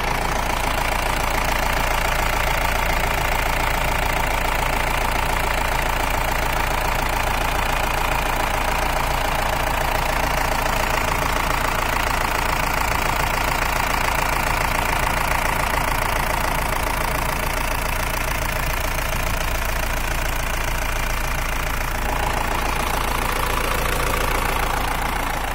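A 2013 Mahindra Bolero SLX engine idles with a steady, continuous mechanical hum and rumble, heard close up and unchanging throughout, with no voices.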